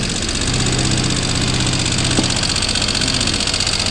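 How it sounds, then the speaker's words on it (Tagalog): A Honda Click 125 scooter with a noisy engine runs at a steady idle, its loud, rough mechanical rattle and hum continuous and close throughout, with no talking. "click 125. Noisy engine."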